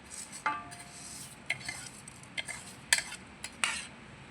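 A utensil scrapes and clinks against a pot of boiling water and vermicelli for sweet payasam in a few quick, separate stirring strokes, quiet and close, with a faint simmering hiss underneath.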